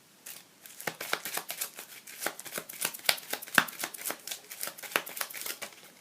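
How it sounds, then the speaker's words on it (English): Board game cards from Sentinels of the Multiverse being shuffled into a deck, a close, rapid run of crisp riffling flicks and papery slaps lasting several seconds, with no voices. "shuffle the environment trash into the environment deck"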